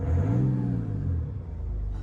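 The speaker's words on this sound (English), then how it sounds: "there's definitely some speaker system going off in the exhaust. It sounds quite beefy" A project car's exhaust gives a deep, beefy rumble with a slight rise in revs, steady and fairly close, with no talking over it.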